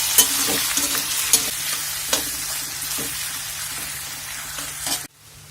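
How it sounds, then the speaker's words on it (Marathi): Potato slices are stirred while frying in a pan, with a loud continuous sizzle and repeated scraping strokes up close before the sound cuts off abruptly near the end, and no one speaks. "हे बटाट्याचे सगळे स्लाइस घालून घेणार आहोत आणि छान याला मिक्स करून घ्यायचं आहे आपल्याला"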